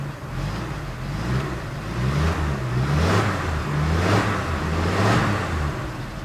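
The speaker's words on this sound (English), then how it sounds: "the engine's running" A 1940 Oldsmobile 70 Series engine runs while the car drives, a steady low rumble with gentle swells in revs, heard from inside the car with no talk.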